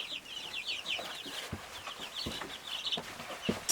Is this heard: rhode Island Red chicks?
yes